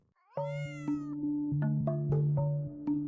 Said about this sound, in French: le son le plus caractéristique du félin, le miaulement